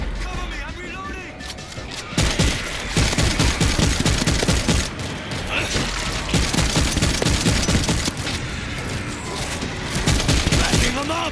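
Dense bursts of shotgun fire boom repeatedly during a frantic co-op firefight in the zombie shooter World War Z, the blasts overlapping almost continuously and loudly as characters shout over the chaos.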